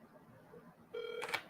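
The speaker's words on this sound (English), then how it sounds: "I'm trying to call you, Miss Karanda." Telephone keypad dialing tones, a short run of steady DTMF beeps starting about a second in, followed by a brief louder burst, heard close and clear over a quiet background.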